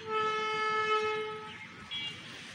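A train horn at Saidpur, tied to the Padma, Silk City, Dhumketu and Banalata Express coaches: one long loud harmonic blast lasting about a second and a half, then a shorter higher toot over rumbling rail noise.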